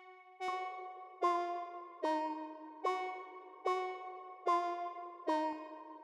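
A layered synth lead built from an analog saw wave and a square wave plays a repeating pattern of sustained notes, about seven evenly spaced bright stabs, each holding a tone, clean and alone.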